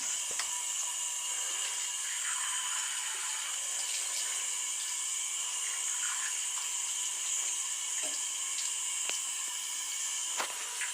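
Water running from a shower or tap while someone wets their head for a haircut, a steady bright hiss with small splashes and clicks scattered through it.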